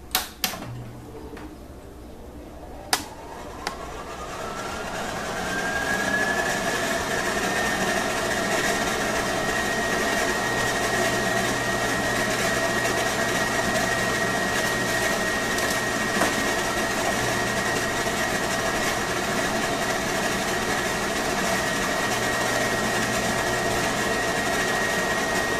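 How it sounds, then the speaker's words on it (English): A WiAir-200 air cushion machine starts up and runs steadily, a continuous mechanical whir with a rising tone settling into a sustained hum, moderately loud and close, with a few clicks at the start. "all we need to do is press start for the machine to begin"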